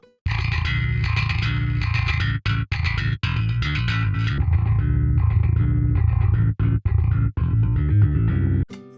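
Distorted metal bass track playing loud and continuous, a gritty sustained tone that briefly drops out several times as EQ is switched on and off.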